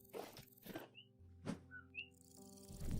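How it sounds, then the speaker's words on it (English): Faint bird chirps in the ambience of the Vintage Story video game, a few short thin tweets scattered between soft footstep-like thuds, quiet and sparse. "Sounded like there was some sort of bird there."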